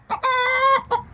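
A hen in a backyard garden gives a loud, drawn-out squawking call framed by two shorter clucks, close and clear with no talking.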